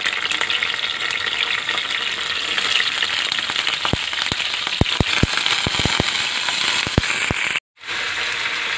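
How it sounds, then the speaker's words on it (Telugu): Green chillies fry in oil in a pan for a tomato, brinjal and cucumber chutney, giving a loud steady sizzle with sharp spitting pops that grow frequent, then a brief silent gap before the sizzle resumes. "ప్యాన్లో నూనె వేసుకుందామండి. ఇప్పుడు పచ్చిమిరపకాయ వేసుకుందాం."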